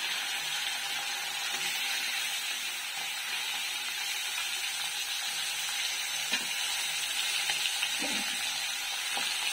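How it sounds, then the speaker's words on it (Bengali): Pomfret fish pieces frying in oil in a pan, a loud continuous close sizzle throughout with occasional faint scrapes and taps of a spatula. "মাছগুলো ভেজে নেব"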